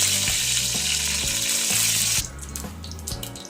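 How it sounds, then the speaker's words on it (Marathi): Curry leaves dropped into hot oil already tempering cumin and mustard seeds for a spicy drumstick masala: a loud, steady sizzling hiss for about two seconds, then quieter crackling, with a tonal musical background throughout. "यानंतर यात कढीपत्ता घालून द्या आणि ते छान असं कढू द्या"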